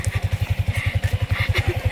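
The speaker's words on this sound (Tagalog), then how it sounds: "Yan yung motor, babe." A motorcycle engine thumps in a steady, fast low pulse close by, running loud and even throughout with no voices over it.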